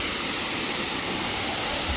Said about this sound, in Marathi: आपण आलो आहे रिम्भी वॉटरफॉलला, on the way to Kanchenjunga.